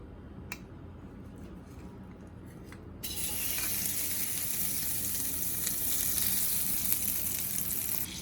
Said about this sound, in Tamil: இப்போ பாத்திரம் சூடானதுக்கப்புறம் அதில் ஒரு 1/4 கப் பட்டர் போடலாம்.